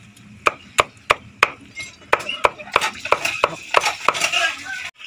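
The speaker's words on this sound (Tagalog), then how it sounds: "Tinadtad ang ano mga boss, ang stinging nettle plant" A knife chops stinging nettle plants on a board in sharp, steady strikes, a dozen or more close, crisp cuts that speed up into a quicker flurry toward the end, with no talking.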